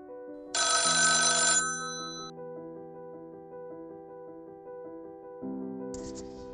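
An old-style telephone bell rings in a bright metallic burst, then sustained tones hold and fade before a second shorter ring cuts in near the end, with no talk.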